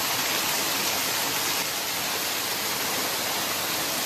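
A trailside waterfall pours over a hiker's head, making a loud, steady, close-up roar of rushing and splashing water with no pauses.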